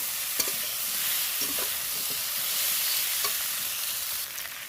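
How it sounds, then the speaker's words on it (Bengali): Continuous frying sizzle with occasional scraping of a spatula stirring potatoes and vegetables in spices in a pan, steady and close. "এর সাথেই আমি ভালো করে এটা ভেজে নেবো"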